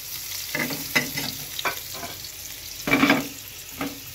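Ash gourd frying with onion crackles softly in the pan, punctuated by a few sharper stirring scrapes and clatters spaced irregularly, with no voices.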